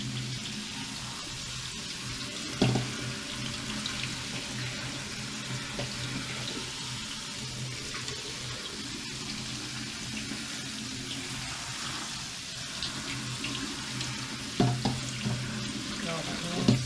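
Tap water runs steadily into a sink while quinoa is rinsed, a continuous hiss with occasional clatter and soft splashes, moderately near and without speech.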